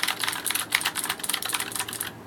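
Fast, continuous typing on a retro mechanical keyboard fitted with clicky Ultimo switches, a dense run of crisp, bright clacks heard up close with no talking.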